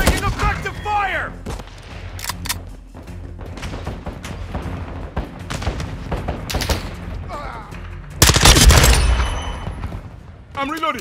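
Sustained automatic gunfire and bursts from a Call of Duty: Modern Warfare II multiplayer hardpoint match, with repeated sharp shots throughout and a loud, dense burst near the end, while game voice callouts speak over the firing.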